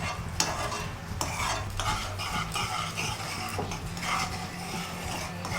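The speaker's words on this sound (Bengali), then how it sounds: "পুরো চিনিটা গুলে গেছে, একদম ফুটে গেছে।" Sugar syrup for shakarpara boils and bubbles in a pan, a steady dense simmering crackle with occasional stirring scrapes and clinks, close and continuous with no talk.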